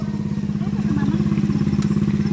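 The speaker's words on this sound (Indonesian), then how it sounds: "Ini motor ATV bosku" An ATV quad bike engine runs at a lake tourist spot with a steady, close, pulsing low rumble throughout, mostly alone.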